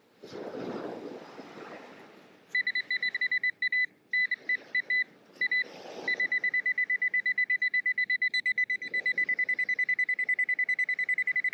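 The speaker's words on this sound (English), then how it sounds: "Why are you beeping?" A metal detector sweeping a lakeside beach sand lets out repeated electronic beeps, first in short broken bursts and then a steady rapid pulsing tone, close and fairly loud over faint waves and wind.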